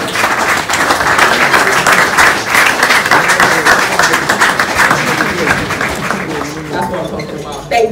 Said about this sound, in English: they're clapping for you the way you're clapping for Emmanuel right now